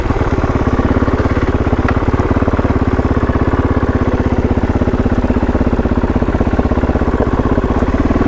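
A KOVE 450 Rally adventure motorcycle engine runs steadily and close, a continuous low, even throb with fine rapid pulsing and a light mechanical clatter throughout, with no voices over it.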